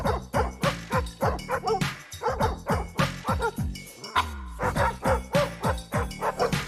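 Several dogs bark in a rapid, continuous volley in a TV advert for Betfair Casino, loud and close, sometimes sounding in a musical pattern, with yips mixed in and no talk over the barking.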